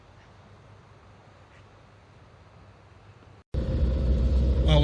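A 1990 Zastava Yugo 45A small car, with a quiet idling rumble that jumps suddenly to a loud, steady engine drone as it pulls away on a drive.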